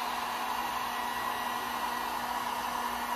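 A hair dryer blows steadily to dry one-step paint on a wooden surface after mesh stenciling, a constant loud whirring hum with no pauses and no talk.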